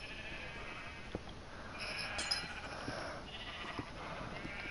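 Sheep bleating in the block-built game Minecraft, several quiet bleats rising over a soft steady background with no talking.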